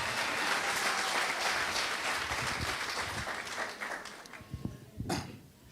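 A congregation at a French- and German-language Christian youth camp service applauds in a dense, sustained burst that gradually thins, with a few scattered claps and a cough-like sound near the end.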